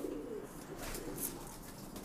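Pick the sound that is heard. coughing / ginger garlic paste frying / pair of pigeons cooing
pair of pigeons cooing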